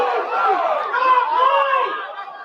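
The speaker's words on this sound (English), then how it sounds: "Crowd didn't care for that." A baseball crowd at a college game voicing displeasure, a loud sustained wash of many voices booing and groaning, swelling and easing over a couple of seconds.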